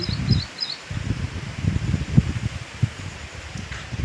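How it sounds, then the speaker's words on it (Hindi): Gusty wind rushing and buffeting nearby, with irregular low rumbling bursts and rustling, plus faint bird chirps at the start. "देखो भी कितनी हवा चल रही है, बहुत तेज़ हवा चल रही है।"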